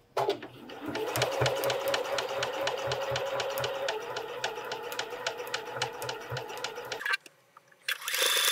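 A sewing machine runs a straight stitch along a seam at 0.5 cm, a steady close whirring with a quick regular needle rhythm for about seven seconds before it stops and goes quiet.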